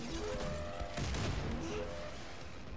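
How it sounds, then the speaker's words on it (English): Rapid gunfire from a weapon in the Wolfenstein 2 video game crackles in a dense, continuous burst at moderate level. "I very much like the sound of these guns"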